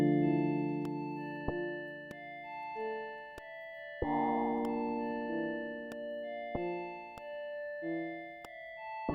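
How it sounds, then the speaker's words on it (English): Reverb-heavy, layered synth pads in Pumpkin Factory video game music, sustained chords that change every second or two, with a brighter swell midway, playing alone with no voices. "That's a beautiful synth sound. The very, like the one with lots of reverb and lots of layer to it."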